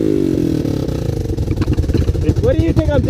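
A three-wheeler engine idles with a steady low chugging throb, close and fairly loud, while voices talk over it near the end.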